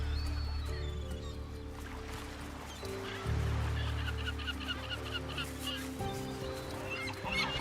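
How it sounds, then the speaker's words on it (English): A dense chorus of tern calls from a nesting colony, many overlapping honking cries with a low droning background, continuous and fairly loud throughout. "Their massive colonies are home to thousands of nesting birds."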